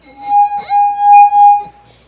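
A wine glass sung by a finger rubbed around its rim rings out with a steady pure tone and bright overtones, loud and close for over a second before it fades.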